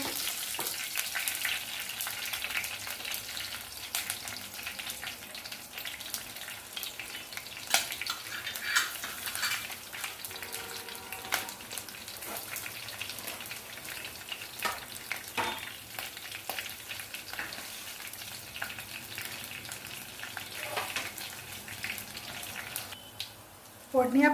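Two chopped green chillies frying in a kadhai along with red chilli and curry leaves in hot oil, a continuous close sizzle with occasional stirring clatter from a spoon against the pan.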